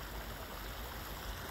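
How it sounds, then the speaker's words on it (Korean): A small stream babbles and trickles steadily over stones, a soft, continuous outdoor water sound heard alone at moderate distance. "시냇물이지, 시냇물. 쫄쫄쫄쫄 시냇물이지?"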